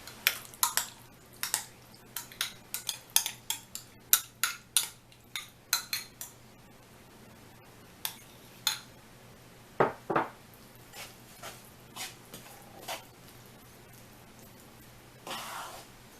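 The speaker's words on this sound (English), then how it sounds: "Just try to mix that in there really well." Pumpkin cornbread batter being mixed in a bowl, with a string of light clicks and taps from the utensil against the bowl, quick at first and then sparser, fairly quiet and close.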